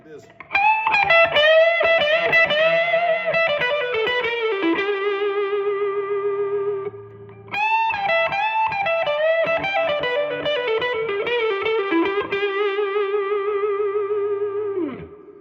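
A 2020 Gibson R9 1959 Les Paul Standard reissue electric guitar plays two clean-ish, slightly overdriven phrases of ringing chords and single notes, close and steady, with a short gap midway and a faint voice beneath.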